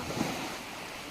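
Sea waves wash onto the shore in a brief, steady, faint surf rush, with wind noise on the microphone and no voices.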